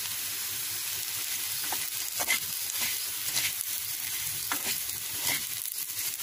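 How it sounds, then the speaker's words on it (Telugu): Curry frying in a pan with sesame, peanut, coconut and garlic powder added: a faint, steady sizzle with scattered crackles and light stirring scrapes, no voices. "ఒక 2 నిమిషాలు ఇలా ఫ్రై చేసుకుందాం."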